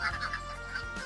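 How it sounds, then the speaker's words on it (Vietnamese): A flock of domestic ducks on a Vietnamese farm quacks in quick, overlapping bursts, fairly close and steady, with no talking. "Đây là đàn vịt nhà tôi này, đấy rất là nhiều nhá."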